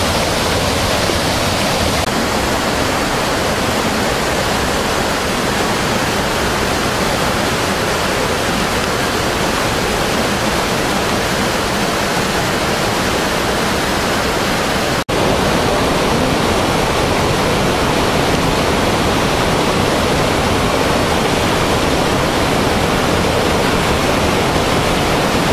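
A waterfall roars steadily for the whole stretch, a dense, constant rush of water with no pauses or voices, at Cascata Pedra da Ferida.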